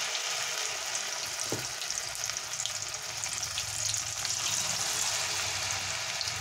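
Topse fish fry in hot oil in a pan, a steady close crackling sizzle with scattered pops and a brief soft clunk, continuous throughout with no talking.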